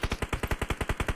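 Rapid pistol gunfire in the mobile battle royale game PUBG Mobile, about eleven evenly spaced loud shots in quick succession with no talking.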